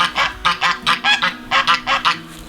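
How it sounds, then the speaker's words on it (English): Geese honk in a loud, rapid series of about a dozen nasal calls close by in a garden, with a steady low hum underneath and no talking. "The geese."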